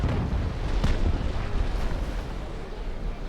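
Naval Action sailing warship firing its cannon into the water, a heavy low boom with a couple of sharper blasts over a rumbling, continuous roar.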